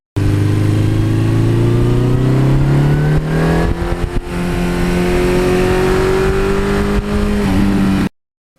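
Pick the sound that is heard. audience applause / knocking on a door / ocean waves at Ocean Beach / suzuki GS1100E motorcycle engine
suzuki GS1100E motorcycle engine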